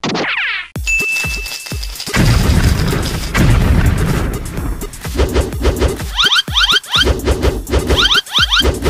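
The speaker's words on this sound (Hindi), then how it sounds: "चलो आओ सब लोग पटाखे फोड़ते हैं" Cartoon firecrackers go off in a rapid string of sharp bangs and pops, loud and close, following an earlier whooshing rise, with no voices.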